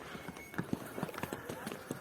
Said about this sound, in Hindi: खुद ही सारा रास्ता पता होता है इन्हें, और उसी रास्ते पे चलते रहते हैं ये घोड़े।